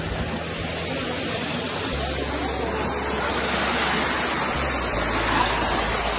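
Water in a river near a bridge bathing spot in Ghorahi, Dang, rushes and splashes in a steady, dense broadband wash that stays loud and even throughout, with no voices heard.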